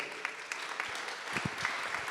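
Scattered clapping from a small audience at a French debate event, fairly steady for a couple of seconds with a few louder claps standing out.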